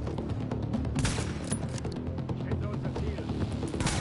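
Sniper rifle gunfire and other weapons crack repeatedly in the shooter game The Division, loud and dense throughout, with a voice speaking over the firing.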